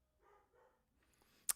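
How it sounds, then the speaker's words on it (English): Dog barking from downstairs in a house, a few muffled, distant barks at moderate-low level, followed by a brief sharp sound near the end. "I have a dog barking downstairs."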